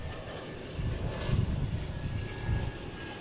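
A JetBlue Airbus A220 jet passes at Boston Logan airport with a steady, moderately loud engine rumble and hiss that swells slightly midway.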